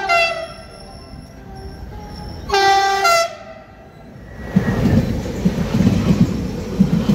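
A Z2N commuter train pulls into platform 2, sounding a long two-tone horn with a brief louder blast, then a rushing rumble of rail wheels as it arrives close by.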